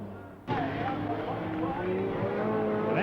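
Sedan race cars roar around Claremont Speedway, a loud, continuous engine drone with rising and falling revs as the cars cross the line and pass close by.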